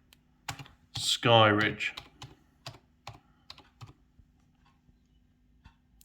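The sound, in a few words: typing on a computer keyboard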